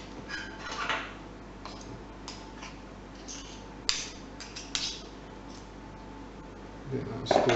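Pizza dough mixture of flour and water stirred in a bowl, with scattered clicks and taps of a utensil against the bowl and soft wet squelching, fairly faint and intermittent.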